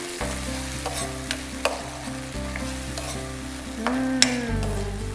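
A spoon stirs barbecue sauce into chicken keema in a sizzling pan. Scraping strokes and a few sharp clinks ring over a low, steady hum and frying hiss. No voices.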